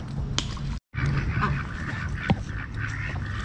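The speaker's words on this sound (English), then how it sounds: "All these cool little ducks, man." Ducks at a creek honk and quack in a rapid, overlapping chatter, loud and near, with a brief gap early on and one sharper call later.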